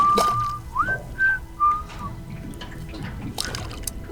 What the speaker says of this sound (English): See, they like whistling.